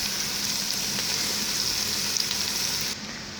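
Cabbage sizzling with bacon in a Ninja Foodi pot, a steady continuous fry hiss that cuts off abruptly near the end.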